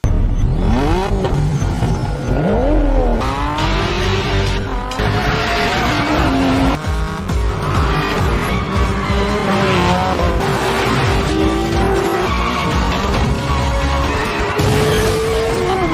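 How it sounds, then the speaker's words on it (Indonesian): Race cars drifting in the Tokyo Drift film scene, loud, continuous engine revs with rising and falling pitch, mixed with tire squeal and skidding throughout. "Setelah Takeshi muncul, balapan pun dimulai."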